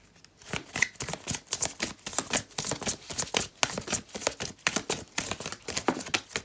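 Tarot cards shuffled and riffled close by before one is drawn, a fast, dense patter of crisp flicks and slaps running continuously for several seconds without speech.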